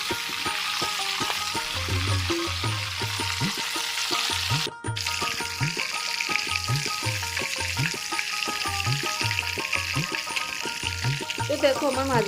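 Prawns fry in hot oil in a home kitchen pan, giving a steady, bright sizzle throughout, while a looping melodic tune plays faintly underneath.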